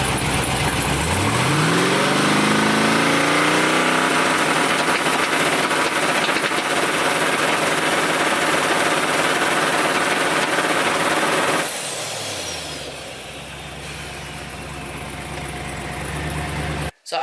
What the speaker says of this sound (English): So I bumped the truck about 5 times.